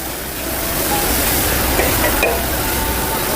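Sliced ginger fries in hot oil in a wok at a Thai street-food stall, a loud, dense, continuous sizzle close up with steady crackling and a few light stirring scrapes.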